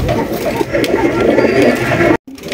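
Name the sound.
pigeons cooing, Afsan Baga grizzle pigeons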